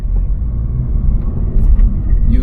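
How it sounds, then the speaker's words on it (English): Toyota GR86 engine at low revs, around two to three thousand rpm, after the fake engine sound was removed, gives a steady, muffled low rumble heard from inside the cabin, with no talk over it. "You can still hear the motor, but nothing like you did before"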